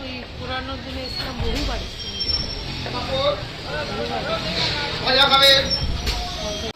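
Local commuter train running, a steady low rumble of the carriage with faint wheel noise beneath close conversation among passengers.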